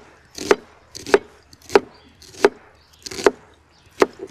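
Onion being finely sliced on a wooden cutting board, six sharp, evenly spaced knife chops about half a second apart, close and distinct with quiet gaps between.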